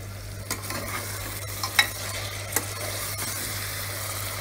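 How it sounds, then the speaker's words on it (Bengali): Mutton with a secret spice mix being stirred together in a pan for a Bengali kosha mangsho-style curry: steady soft scraping with a faint sizzle and a few sharp utensil clinks, close up, with no talking. "মিক্স করে নেবো পুরোটাকে।"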